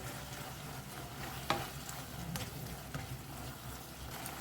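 Chopped coriander stirred into leftover idli chilli frying in a pan, a steady close sizzle broken by sharp spatula clinks and scrapes at irregular intervals, with no talking.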